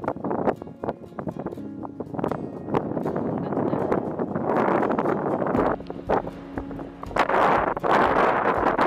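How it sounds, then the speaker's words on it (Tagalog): Strong wind buffeting the microphone in gusty, roaring waves at the hilltop tower of Papamoa Hills, New Zealand, with occasional thumps and rustling. "Lakas ng hangin dito."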